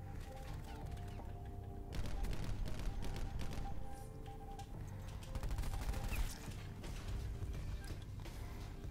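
Auger DMR gunfire in Call of Duty: Black Ops 4, repeated sharp shots in quick bursts over busy game sound, moderately loud and continuous through most of the stretch.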